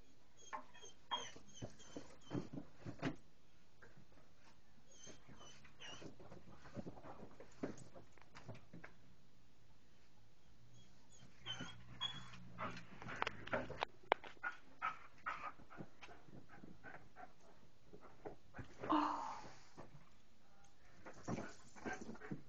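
A dog whimpers in thin, high whines and pants softly at close range, with brief muffled shuffling and a few sharp sounds between.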